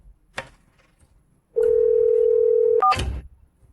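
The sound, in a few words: telephone dial tone and dialing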